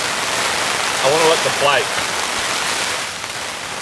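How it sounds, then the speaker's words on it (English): Heavy rain pours steadily off a camping tarp in a torrential downpour, a dense continuous hiss heard up close while someone speaks briefly over it. "the rain is absolutely pouring off the tarp"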